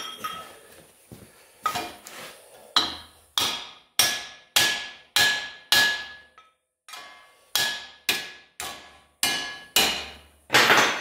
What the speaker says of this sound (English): I just pounded it down into it